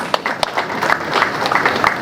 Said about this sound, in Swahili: Makofi kwa trustees.